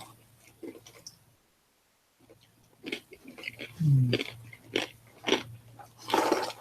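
Someone crunches and chews close to the mic in irregular bursts of crisp, loud bites, with a short silent pause early on before the chewing resumes.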